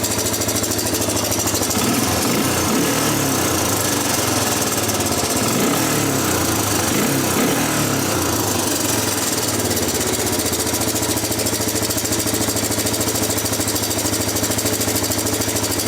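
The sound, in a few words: ATV engine bogging and idling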